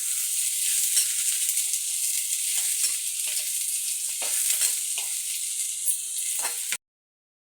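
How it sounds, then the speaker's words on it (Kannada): Sliced onion frying in a hot pan, a loud, steady sizzle and hiss close up with occasional stirring scrapes, running continuously before cutting off abruptly. "ಉದ್ದದ್ದಾಗೆ ಕಟ್ ಮಾಡಿದ ಒಂದು ಈರುಳ್ಳಿ ಹಾಕ್ತಾ ಇದ್ದೇನೆ"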